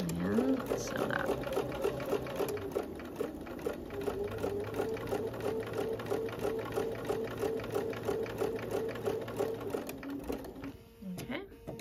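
A sewing machine stitches a snowballed quilt corner, running at a steady fast rhythmic clatter close up for about ten seconds before slowing and stopping, with a faint high whine in the background.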